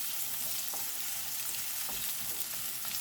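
Coarsely chopped onions fry in a generous amount of olive oil in a pan, giving a steady, even sizzle with faint crackles and no voices.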